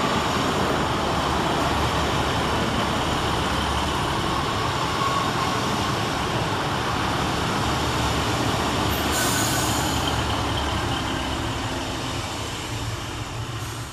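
Two coupled Northern Class 150 diesel units, 150.105 and 150.107, pull into Woodsmoor station, a loud, continuous rumble of engines and rolling wheels close by, with a brief high squeal partway through.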